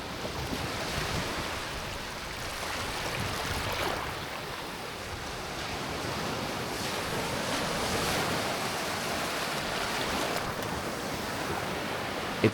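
Ocean waves crash and wash on the shore at Da Nang, a continuous roaring surf with swelling surges and wind, no voices.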